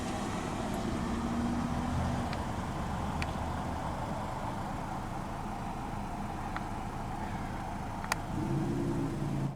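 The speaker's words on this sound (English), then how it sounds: "Very quiet diesel." A 2019 Mazda CX-5 Signature with the Skyactiv-D diesel engine idles quietly and evenly, a soft low rumble holding steady throughout, with a few faint ticks and a slight swell near the end.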